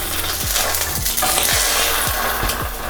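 An egg frying in a stainless steel pan over lower heat gives a steady, close sizzle, with several soft regular taps or knocks repeating beneath it.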